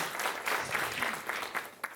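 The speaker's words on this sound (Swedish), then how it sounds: "en varm applåd för Ellen Mattsson" Warm audience applause at a Swedish literary evening welcoming two author guests: a dense, fairly distant wash of many hands clapping, steady throughout with slight swells and a brief sharper clap near the end.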